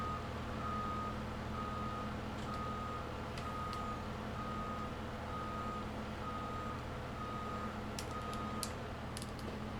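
A lorry in a farming video game reverses, its backup alarm beeping in a steady regular rhythm over a constant low engine drone, with a few faint clicks scattered near the end.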